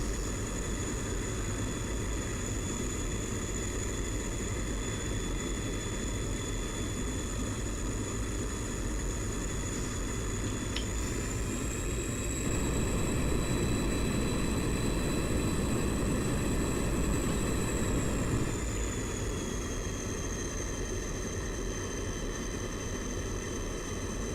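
MiG-21bis jet engine in a flight simulation game, a steady, continuous roar with a high whine that rises slightly in pitch as power is added, constant and unbroken throughout.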